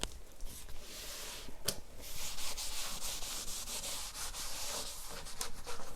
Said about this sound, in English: just start wetting it and giving it a good scrub, and you can see the dirt comes off quite quickly.